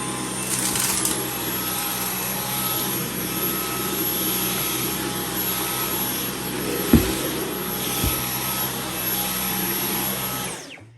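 An iRobot Roomba 980 robot vacuum runs with a steady, close, broadband whir and hum, its motor drone constant throughout, broken by two brief bumps or knocks near the end before the sound cuts off.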